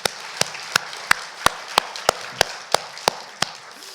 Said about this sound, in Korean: 우리 축하의 박수 한번 할까요?